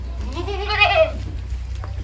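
Goats kept tethered in an enclosed goat farm, a single clear bleat rising and falling for about a second over a low steady background hum.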